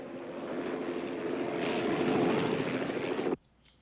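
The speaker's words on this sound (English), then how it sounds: "Sounds like one of them helicopters." A helicopter flying overhead sends out a steady engine and rotor drone that swells louder as it approaches, then cuts off abruptly near the end.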